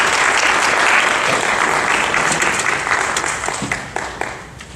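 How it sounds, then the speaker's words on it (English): A crowd at a county commission chairman's forum applauds loudly and steadily, the dense clapping gradually thinning out and fading toward the end. "Please come. Give him a round of applause."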